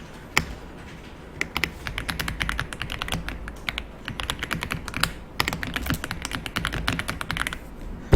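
Rapid keystrokes on a computer keyboard, including Enter presses, during a Korean word-processor (Hangul) document exam task; steady close clicking with short pauses, no talking.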